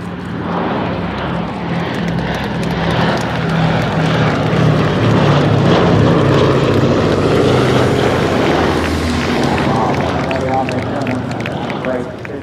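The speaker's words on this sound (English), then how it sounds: "Ladies and gentlemen, the Boeing B-17 Flying Fortress" Boeing B-17 Flying Fortress propeller aircraft flying at an air display, a loud continuous multi-engine drone lasting throughout, with an announcer talking over it.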